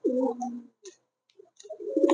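Pigeons cooing at a pigeon farm, a close, throaty coo rolling out at the start, a few soft short sounds in the gap, then another cooing phrase building at the end.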